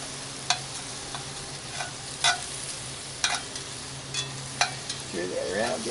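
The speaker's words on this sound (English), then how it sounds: "Stir that around just a hair more" Beans stir in a pot over a low background sizzle, with a series of soft scraping, clacking spoon strokes every second or so and a brief muffled rustle at the end.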